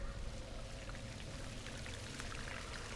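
Water pours steadily in The Last of Us Part II video game, a continuous splashing rush that holds at a constant level, with no talking.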